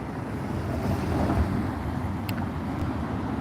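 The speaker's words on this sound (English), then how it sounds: "It is quite windy" Gusty wind blowing outdoors on a sunny day, a dense rushing roar buffeting the microphone with a brief swell in the middle, loud and steady with no speech.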